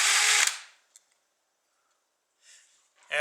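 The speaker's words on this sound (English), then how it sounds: "the drill bit actually nicked the top of the mortise there" A power drill whines at high pitch for about half a second as it bores through a wooden Browning Auto 5 shotgun buttstock, then cuts off. Faint clicks and a soft scrape follow in near silence, and the whir starts again at the end.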